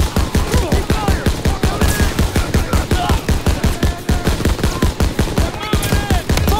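Rapid gunfire in the World War II shooter Call of Duty: WWII, a dense, rhythmic burst of machine-gun shots firing continuously at a steady pace, loud and close with occasional sharper cracks layered on top.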